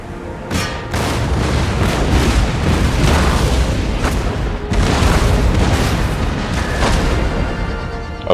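Repeated heavy booms of cannon and artillery fire in a Total War: Empire battle with Russian forces, loud dense blasts rolling one after another over a constant roar of battle.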